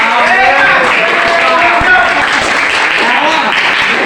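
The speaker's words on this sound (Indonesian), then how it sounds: "Tepuk tangan dulu." Students in a classroom clap their hands together in a steady burst of applause that runs throughout, mixed with overlapping voices calling out.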